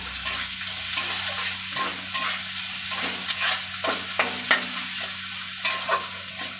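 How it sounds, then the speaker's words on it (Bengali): Onions stirred and fried in a pan, a soft steady sizzle broken by repeated scraping strokes of a spatula at an even, unhurried rhythm, close and without speech. "নাড়াচাড়া করে নিই দিয়ে দেবো যাতে তাড়াতাড়ি পেঁয়াজটা নরম হয়ে যায়"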